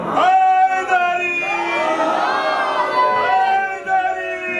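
A large crowd at a Shia majlis mourning gathering chants the religious slogan Haidari in loud unison, with voices rising and blending into one sustained roar.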